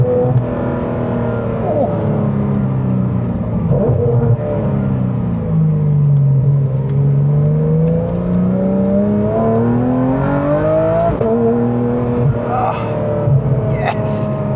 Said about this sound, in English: You can actually hear the car, as to before you couldn't really hear it when you were at idle or just cruising along.